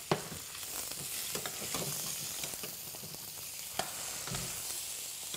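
Food sizzles steadily in a pan on a Ramadan cooking show, with irregular scraping strokes and clacks as it is stirred, close up and with no talking.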